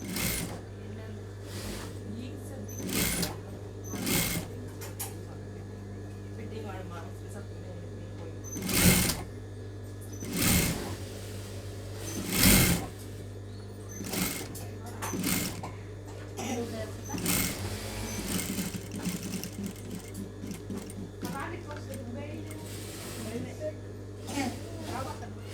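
A sewing machine stitches a blouse sleeve with a continuous mechanical whir, broken by louder clacks, while people talk over it.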